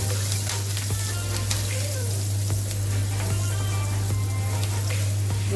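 Garlic and chillies sizzling in hot oil in a pan, a dense, steady crackling fry that runs throughout with scattered louder pops, over a constant low hum.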